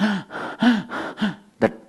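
A person imitates gasping, wheezing breaths like an asthma attack, with five strained rhythmic gasps followed by one sharp catch of breath, close and loud.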